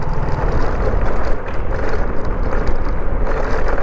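A two-wheeler rolling over a rough stone road gives a dense, continuous rumbling rattle, loud and close throughout with no talking.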